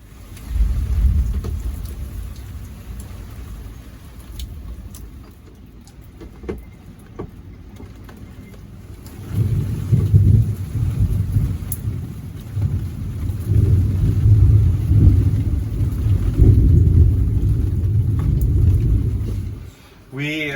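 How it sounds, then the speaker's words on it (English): Steady rain beats on a sailboat at anchor off Grenada, with low rumbling thunder rolling through a loud, close, continuous wash. The storm swells stronger midway. "It started raining, so we normally sleep with the hatch open above us"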